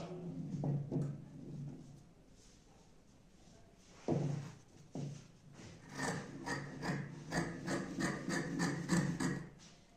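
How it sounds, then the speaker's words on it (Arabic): Fabric for a round trouser and Chaoui-style mlahfa outfit is cut on a table, with soft irregular snips and rubbing, then a denser run of quick cuts, all quiet and close. "يعني هنا نقطع القماش تاعي"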